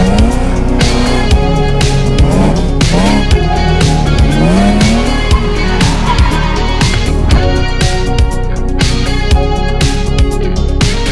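A BMW drifts around a circuit at a drifting school, its engine roaring and revving loudly and continuously while the tires squeal in long sliding wails, all up close.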